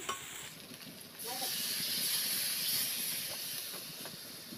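Water poured into a hot pan of braised desi chicken curry, a loud hissing sizzle that surges after a second and holds steady as steam rises, with no talk.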